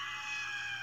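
A brief, shrill scream from a Big Hero 6 promo, held at a steady pitch for under a second with no talk.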